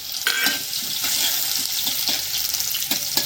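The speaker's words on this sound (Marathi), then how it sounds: "तेल गरम झालं आता कांदा टाकून घेऊया" A small chopped onion drops into about three ladles of hot oil and fries with a loud, continuous sizzle and hiss close by, with faint stirring knocks along the way.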